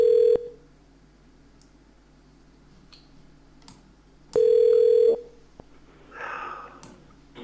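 A telephone line gives a steady electronic tone, cut short, and then a longer tone several seconds later, with faint clicks and a brief rustle between them, with no one talking.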